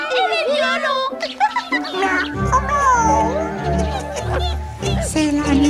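Cartoon cats meow and caterwaul over lively music with playful voices, from a French animated Peter Rabbit tale about the Tailor of Gloucester, the yowls rising and falling continuously throughout.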